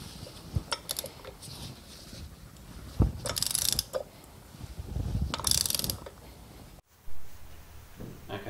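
Torque wrench clicking and ratcheting as a bolt is tightened to 150 newton meters on a Moke clutch job, with bursts of metallic ratchet clicks separated by pauses and handling noise, close and fairly quiet.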